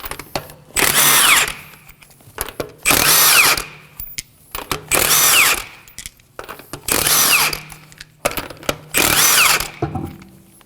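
A power tool with a 19mm socket loosens the wheel on a 2014-2020 Acura MDX for tire removal, five loud bursts of roughly a second each, evenly spaced with brief pauses between, close by and with no talk.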